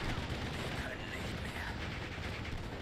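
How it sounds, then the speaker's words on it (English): Battle noise from Steel Division: Normandy 44 fills the clip in a continuous dense rumble of gunfire and explosions, loud and unbroken, with mortar fire mixed into the din. "Use my mortar to pin these guys down."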